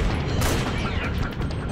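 Sniper rifle gunfire in the Metal Gear Solid 4 video game: a loud, sharp shot with a booming tail and mechanical rattle, set against a dense, noisy game soundscape.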